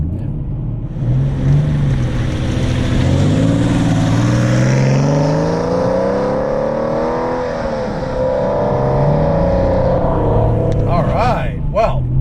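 A 1997 Porsche 993 Carrera engine drones and rises through the gears as it drives, smooth revving pitch sweeps, with a brief sharper burst near the end.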